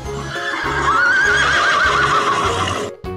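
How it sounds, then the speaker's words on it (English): A toy horse whinnies once in a long, wavering neigh with a few clip-clop hoof beats beneath it, loud and close, with no talking. "Horse."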